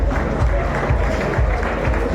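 Audience applause fills a hall at an excellence awards ceremony held by a union of foreign African students in Meknes, Morocco, greeting a student whose name was called. The clapping is steady, dense and close throughout, with a faint voice underneath.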